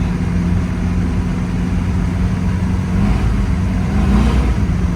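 1953 Chevrolet 3100 pickup with an LS swap driving down the road, a steady low engine rumble from inside the cab that swells slightly toward the end, with no talk.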